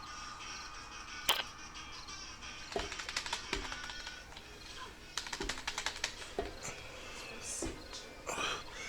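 Typing on a computer keyboard that keeps jamming during a 7 Days to Die gaming session, with irregular bursts of sharp key clicks and clacks, close and fairly loud, alongside quiet background noise.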